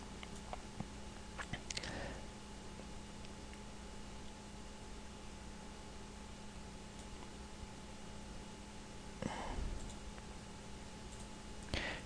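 Sparse computer mouse clicks, a few quick clustered taps near the start and again later, over a steady hum of fan and background noise while laser show software is operated.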